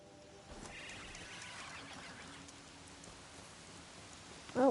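In the video game Horizon Zero Dawn, steady, fairly quiet rainfall hisses in the background, falling on a surface, with a brief louder sound right at the end.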